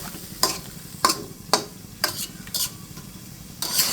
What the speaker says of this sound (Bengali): একটু নেড়ে চেড়ে মিশিয়ে দিচ্ছি যাতে লবণ হলুদের সাথে মিশে যায়।